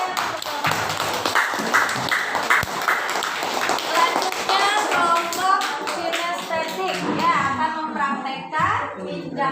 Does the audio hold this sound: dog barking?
no